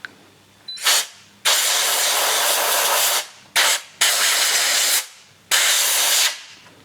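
A compressed air nozzle blasts dirt off an engine part in four loud, hissing bursts of varying length, with quiet gaps between them.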